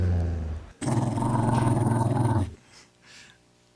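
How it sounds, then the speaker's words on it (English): A recorded dog gives a sustained low, rough growl lasting a couple of seconds, loud and close, then tapers off into faint breathy sounds. "This is also a dog sound."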